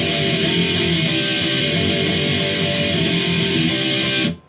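Electric guitar played alone through a song's bridge, a dense, sustained, distorted strummed riff with steady rhythmic accents that rings loud throughout and cuts off abruptly near the end.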